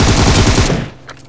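A burst of rapid automatic gunfire in the PUBG Mobile shooter game, loud and close, about a dozen quick shots that stop abruptly, followed by a quieter tail with faint distant pops.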